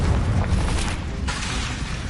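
A deep, sustained explosive boom from the Confringo fire spell in Hogwarts Legacy, a dense rumbling roar that fills the whole moment without any talking.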